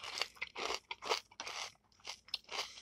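Crisp, close crunching of Post Great Grains Banana Nut Crunch cereal being chewed, about seven distinct bursts in an uneven rhythm, fairly quiet with no talking.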